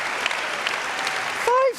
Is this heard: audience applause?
yes